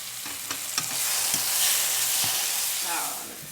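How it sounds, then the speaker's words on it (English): Tomato paste and turmeric fry in a pot for Persian lamb stew, a close, steady sizzle punctuated by spoon scrapes and taps as it is stirred. "We want the tomato paste to caramelize as well, so we're going to fry it for a few minutes."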